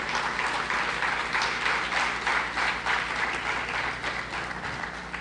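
A large audience applauding steadily, dense overlapping clapping that holds strong before tapering slightly at the end.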